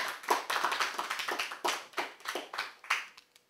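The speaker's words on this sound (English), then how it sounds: "Oh, claps from all over out there." Listeners at a book reading give a short burst of scattered applause, a few dozen uneven claps that thin out and stop within seconds, fairly faint and heard without talk.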